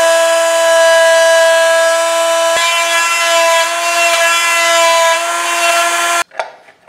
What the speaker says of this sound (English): So now I took my Dremel Trio and I set the depth with this flat cutting wood bit to the depth of the hinge.